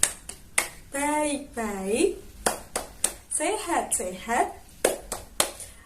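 An Indonesian classroom clapping chant: a teacher and pupils chant call-and-response lines, and sharp, rhythmic claps punctuate the voices in short bursts throughout.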